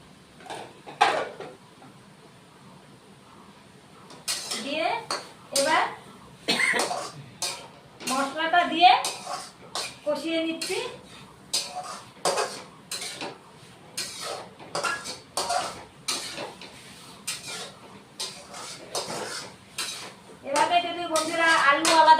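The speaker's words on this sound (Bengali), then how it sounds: "এবার ভেজে রাখা ভেন্ডিটাও দিয়ে দিব" Fried okra going into a pan of potato curry, a spatula clanking and scraping against the metal in a long series of sharp, repeated knocks, with a person talking between them.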